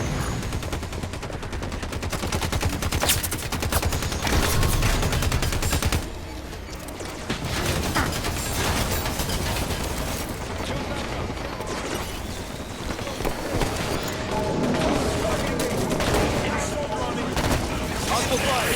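Sustained gunfire bursts and shots from the video game Halo 5 fight against crawlers and soldiers, loud and nearly continuous with a short lull, mixed with game effects and voices speaking over it.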